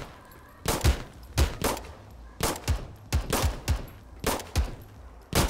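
Guns firing in a multiplayer first-person shooter, with about a dozen sharp, punchy shots in irregular single and double bursts standing out clearly over a quiet background.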